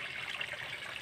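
A small stream where children bathe flows steadily nearby, a continuous close trickling and babbling with a bright watery hiss and no voices.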